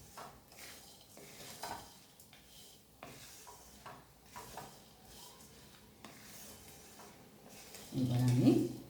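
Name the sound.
mixing poha, green peas and groundnuts with chaat masala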